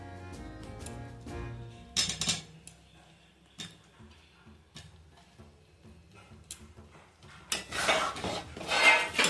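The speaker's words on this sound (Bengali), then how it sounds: "হালকা হালকা নাড়তে হবে।" Paneer pieces stirred in a pan for a dhaba-style paneer masala, with scattered metallic clinks and ticks of a spoon against the pan that grow busier and louder near the end, no voices.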